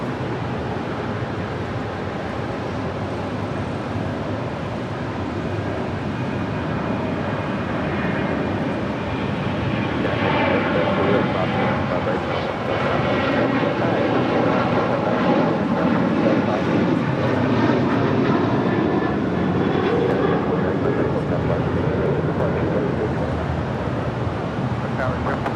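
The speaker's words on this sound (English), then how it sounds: "This flight coming in from Cleveland, Ohio, United Airlines flight 1977 and the 737 MAX 8." A United Airlines Boeing 737 MAX 8 arriving at LAX from Cleveland rumbles steadily, its engine noise swelling a little louder around the middle with a sweeping, wavering whine, while a voice talks faintly at times.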